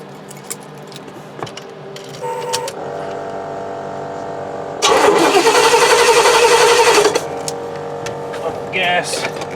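A GMC motorhome engine, freshly tuned with new plugs, wires, cap and rotor, cranks and then catches with a loud, rough burst lasting a couple of seconds before settling back, with faint voices and shop noise around it.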